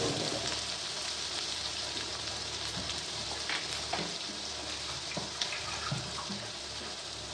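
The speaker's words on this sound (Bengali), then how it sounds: "পোস্ত দিয়ে দিয়েছে তেলের উপর।" Poppy seed paste (posto) fries in oil in a pan for a Bengali egg dish, giving a steady, continuous sizzle with occasional small pops and utensil scrapes, close and moderately loud throughout.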